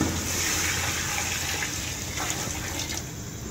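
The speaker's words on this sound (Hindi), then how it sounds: "अब मैं इसमें पानी डाल दूँगी।" Water poured from a vessel into a pot of fried spice masala and rice, a continuous close gushing splash that carries on steadily and tapers slightly near the end.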